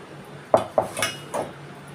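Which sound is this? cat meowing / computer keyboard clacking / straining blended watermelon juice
straining blended watermelon juice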